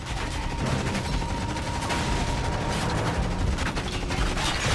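Upgraded machine gun in the video game Renegade Ops firing in a dense, continuous rattling burst, loud and close, mixed with game explosions and effects throughout.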